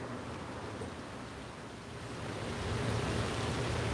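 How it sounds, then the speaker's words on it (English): Sun-shower rain falls on a downtown Toronto street, a soft, even hiss of drops that swells a little louder toward the end, with no voices. "can you guys hear the rain?"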